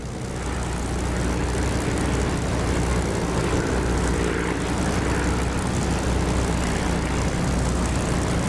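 Steady, loud propeller aircraft engine drone in the DCS flight simulator game, a continuous throbbing roar with no breaks while the plane flies.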